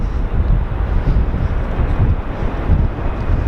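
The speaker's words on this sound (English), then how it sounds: "Looks pretty windy." Strong gusts buffet the microphone beside the runway at Sydney Airport, a loud continuous low roar that never lets up.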